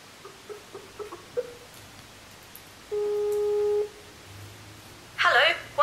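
A Skype call connecting tone while dialing the Echo Sound Test Service from an Android phone, a steady beep held for about a second after some faint taps, followed by a brief louder burst.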